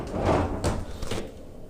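A cupboard door is shut in a house during a walkthrough, giving a couple of quick knocks and clacks close by, with a short rustle before the closing sounds.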